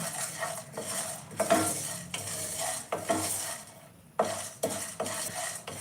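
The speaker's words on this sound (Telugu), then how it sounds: "బాగా వేయించుకొని దోరగా వేయించుకోవాలి" Spices for vangi bath powder, including cinnamon stick, dry roasting in a pan, stirred with a utensil in repeated scraping and clinking strokes at close range, with no one talking.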